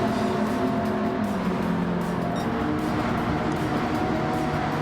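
Race cars roaring down the long front straight of a racing video game, including a Lamborghini and a Genesis, a steady dense engine drone with layered pitches that holds loud throughout, with no talk.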